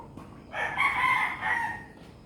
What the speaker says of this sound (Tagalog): May mga manok din dito.